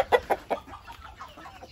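Chickens and a rooster cluck at a feeding, a few sharp, fairly close clucks at the start thinning into softer, scattered clucking and rustle.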